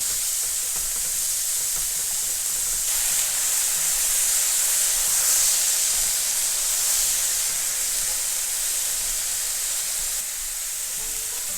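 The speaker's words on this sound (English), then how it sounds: "For the meat, I'm not adding anything, no oil. Just add meat to it." Meat searing in a dry pan with no oil for gungjung-tteokbokki, a steady hissing sizzle that swells slightly in the middle and fades a little near the end.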